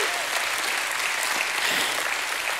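A church congregation breaks into steady, dense applause, a continuous wash of many hands clapping at once, heard alone at moderate volume.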